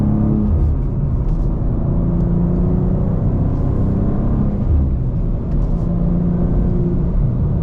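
A 2024 BMW M2 engine roars and revs continuously, a loud low rumble rising and falling as the car accelerates, close by with no talking.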